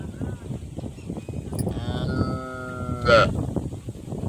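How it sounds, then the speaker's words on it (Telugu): A cow on a farm moos in a long, wavering call that swells to a louder cry near the end, heard over steady background noise and a person talking nearby. "ఆవు ఏడవకు ఓకేనా"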